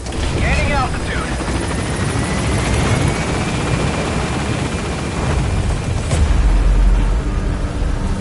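Helicopter in the video game Metal Gear Solid V lifting off from a landing zone, a steady loud rotor roar with rumbling low end that swells near the end, with radio voices talking over it.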